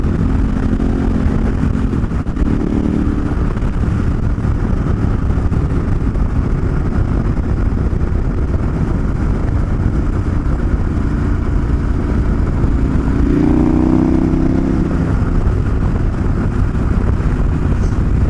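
A KTM 1090 Adventure R rides along pavement on a dual-sport trip through Skull Valley, its engine a constant loud drone mixed with heavy wind rush throughout.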